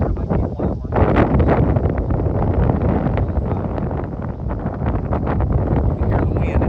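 Strong wind gusts buffet the microphone on a lake while bass fishing from a boat, a loud, continuous rushing roar with no clear voice.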